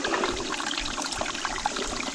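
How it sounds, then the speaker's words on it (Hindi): Icy snowmelt spring water seeping and trickling from the ground on a mountain pilgrimage trail, a soft close babble of small droplets and running water with no voices. "रिस रिस के आता है पानी वाला"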